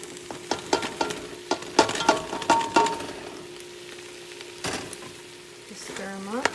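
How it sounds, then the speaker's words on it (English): Potatoes tumble into a pot of simmering Caldo de Queso base, followed by sizzling and a run of knocks and scrapes as a spoon stirs them against the pot, close and moderately loud. "we are going to add the potatoes now"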